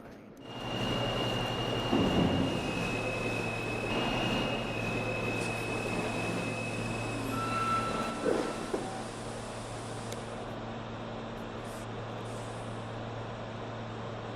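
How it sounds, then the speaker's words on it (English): A New York subway Q train nearing its last stop on the N and Q lines, a steady interior rumble with whining motor tones and brake squeals as it slows, then quieter idling hum near the end. "This is a 1st Street bound Q train."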